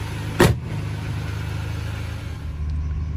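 A cheap used Ferrari, run again after sitting for four months, drives down a road at dusk with a steady low engine rumble. A brief sharp knock or clunk comes near the start.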